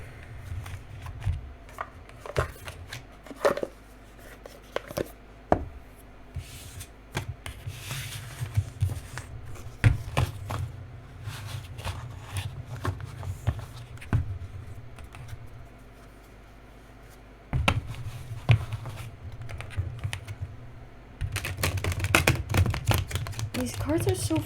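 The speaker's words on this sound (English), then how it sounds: "I'm gonna shuffle your tarot on camera" A tarot deck being shuffled by hand, stiff cards riffling and tapping in uneven bursts with soft rubbing between, close and quiet, growing busier toward the end.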